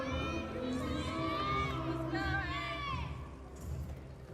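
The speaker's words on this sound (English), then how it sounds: "Her teammates cheering her on in the background" Gymnastics teammates in a collegiate meet arena, Arizona at Iowa State, cheer and shout encouragement in the background, a continuous lively crowd of high voices rising and falling throughout.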